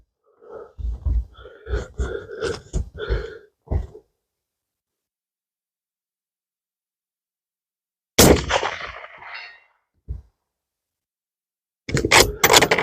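A Merkel Helix Alpinist rifle fires lead-free ammunition: two loud, sharp shots several seconds apart, each with a rolling echoing tail, following a stretch of muffled handling noises.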